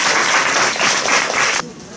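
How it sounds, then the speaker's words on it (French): A burst of applause from an audience at a live drawing contest, dense clapping for about a second and a half before cutting off abruptly. "On peut applaudir Sarah?"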